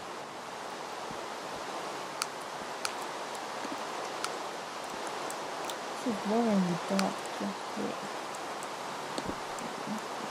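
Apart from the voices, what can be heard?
rain in the video game Minecraft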